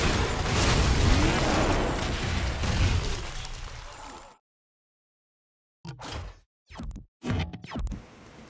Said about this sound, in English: Nobody needs hairspray in the apocalypse, unless it's for a bomb!